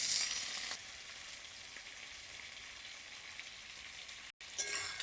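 Crab pieces fry in hot oil with salt and turmeric, giving a continuous close sizzle that dips briefly near the end and returns.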